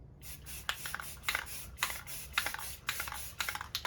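An aerosol can sprays black paint onto a 1/10 Lexan RC car body in a series of short hissing bursts, about a dozen quick passes in an uneven rhythm, close by.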